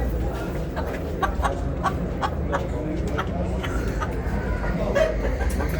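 Chickens and roosters at a busy poultry market cluck and squawk in repeated bursts over a dense crowd murmur, with someone talking nearby throughout.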